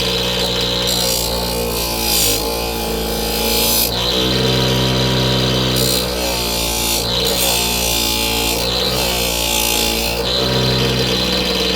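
Power tool running steadily while rubbing marks off an opal stone, a continuous loud whirring with slight surges and dips in pitch as pressure changes, no talking.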